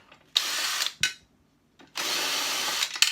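A power drill-driver backs out screws from an aluminium part in two loud whirring bursts separated by a brief gap, with small clicks between runs.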